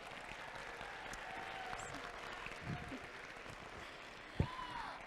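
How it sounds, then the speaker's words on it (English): A warm round of applause from the robotics regional crowd in Sacramento follows a guest speaker's talk, sustained and moderately distant, with a brief voice and a short knock cutting through near the close. "Let's give her another warm round of applause."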